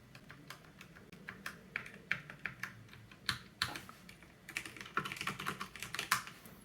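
Light typing on a Drop CTRL high-profile mechanical keyboard with tactile, non-clicky Halo Clear switches: soft, uneven bursts of close keystrokes with occasional louder taps, heard alone.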